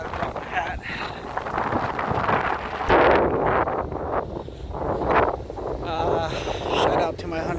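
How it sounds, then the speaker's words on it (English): Gusty wind buffets the microphone in low rumbling bursts while a person talks over it outdoors in Seattle in March. "A little windy out here."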